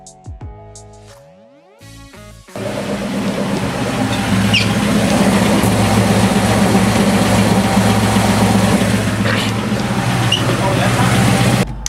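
A Terminator Cobra with a catless X-pipe exhaust idles loudly nearby with a deep, steady rumble that continues throughout.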